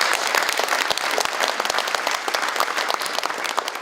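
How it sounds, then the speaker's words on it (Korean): A crowd at a Korean political forum and mock people's court claps together, a dense, continuous round of applause with crisp individual claps, holding at an even level throughout. "박수 한번 보내주시기 바랍니다."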